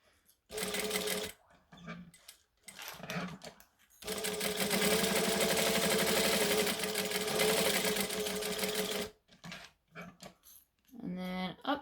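A domestic sewing machine stitches around the edge of fabric in short bursts, then one long steady run of rapid mechanical whirring, with brief pauses and a voice talking between bursts.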